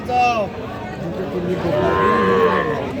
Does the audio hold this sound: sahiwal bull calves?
yes